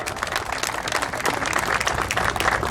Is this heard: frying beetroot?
no